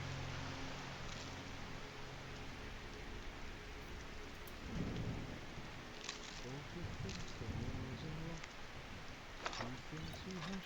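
Steady rain hisses in a Skyrim thunderstorm while low thunder rolls build and fade across the scene, with scattered game sounds and brief clatters layered over the constant downpour.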